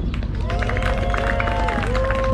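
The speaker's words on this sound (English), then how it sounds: "Y'all make some noise for yourselves." A street-show crowd cheers and claps in a dense, continuous roar, with whistles and a voice rising over the noise.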